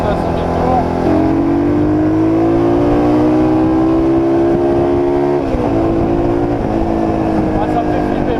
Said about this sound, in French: on va accélérer, on a 5000 tours